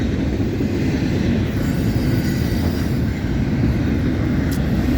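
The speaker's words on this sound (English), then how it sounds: "So this is our last train of the day." A freight train, an intermodal led by a Norfolk Southern heritage locomotive, rolls past at Homestead, Pennsylvania, with a loud, steady rumble of wagons and wheels that holds throughout, and no one speaks.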